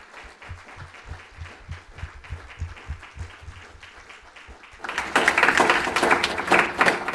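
A church congregation bursts into loud, sustained applause mixed with cheering after several seconds of rhythmic, steady clapping, filling the room at close range.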